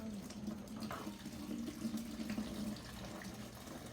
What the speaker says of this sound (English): So this is our fermented batch. It's been sitting, it's ready for us.